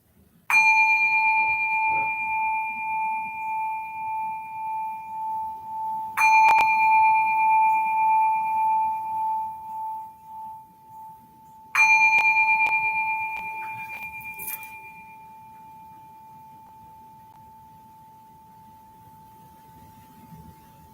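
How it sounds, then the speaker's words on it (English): A single meditation bell struck three times during a service, each strike ringing clear with a shimmering, wavering tone that slowly decays, the last one fading away into near silence. "As the sound of the bell fades, just take a few deep breaths,"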